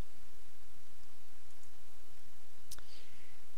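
A single sharp computer mouse click snaps out near the end, close and crisp, over a steady low background hiss.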